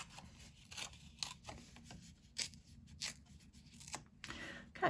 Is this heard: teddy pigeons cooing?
no